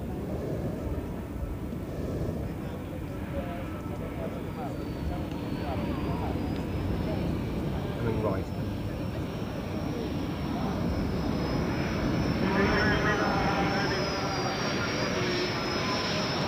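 Israeli Air Force aircraft pass overhead at a balloon fiesta in Israel, a steady engine roar rising slightly over the clip, with a thin high whine and broad outdoor noise throughout.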